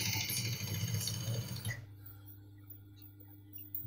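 A sewing machine stitches a cargo pocket in a steady, fairly close mechanical run that lasts nearly two seconds and then stops, leaving quiet room tone behind.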